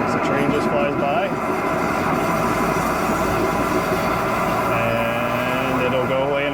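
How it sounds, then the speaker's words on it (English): A train rumbles past nearby, a dense continuous roar of wheels and rail noise that stays loud for the whole stretch. "Here comes the noise, gets louder as the train just flies by."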